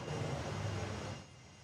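An Alliance airliner taxiing at Perth Airport gives a steady, broad engine roar that holds for over a second, then eases and thins out.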